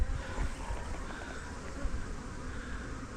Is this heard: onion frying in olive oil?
no